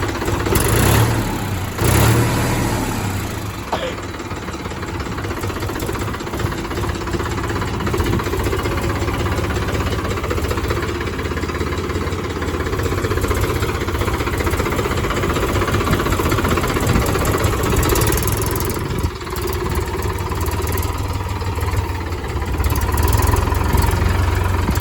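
A tractor engine runs steadily at a farm for the whole stretch, a continuous mid-pitched idle with a slight knocking rumble, close and fairly loud, with no talking.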